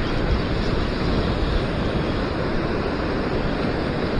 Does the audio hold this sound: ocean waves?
yes